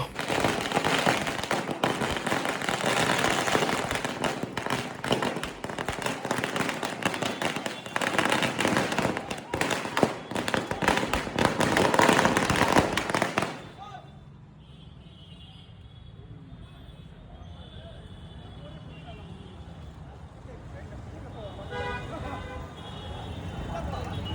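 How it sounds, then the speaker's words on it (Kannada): Firecrackers burst in dense, rapid crackling volleys outside the Krishna movie theatre in Bommanahalli, loud and continuous for about thirteen seconds, then stopping abruptly to leave quieter street and traffic noise. "ಅಲ್ಲಿ ಜಸ್ಟ್ ಈ ಥರ ಅವರು ಓಪನ್ ಮಾಡ್ತಾರೆ, ಪಟಾಕಿಗಳನ್ನು ಹಚ್ಚಿಬಿಟ್ಟು"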